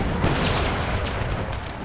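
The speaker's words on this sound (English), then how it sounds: "It's like he gave the mortar to fire" A mortar fires in the Empire: Total War American Civil War mod, a loud, deep, sustained booming rumble with muffled blasts that rolls on for the whole short stretch.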